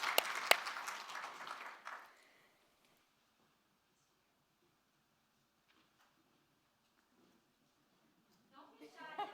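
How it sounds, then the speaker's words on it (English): An audience applauds poets on stage at a youth poetry showcase, a brief burst of clapping and cheering that fades within two seconds, then near silence until a voice starts. "And let's keep applauding them,"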